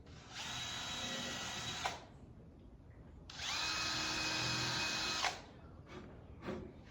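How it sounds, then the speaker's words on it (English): A power drill whines through plexiglass for a shadow box door in two sustained bursts of about two seconds each, separated by a pause, with light handling clicks afterward. "go ahead and drill the 2 holes"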